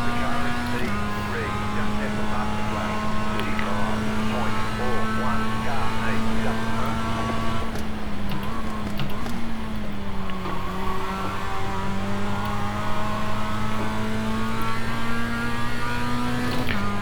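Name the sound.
Mazda race car engine in iRacing video game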